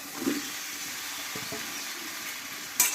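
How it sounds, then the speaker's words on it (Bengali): Potatoes and pointed gourd fry with spices in a pan, giving a fairly quiet continuous sizzle with a few soft stirring bumps and a brief clink near the end. "এই মশলার সঙ্গে একটু ভালোভাবে কষিয়ে নেবো"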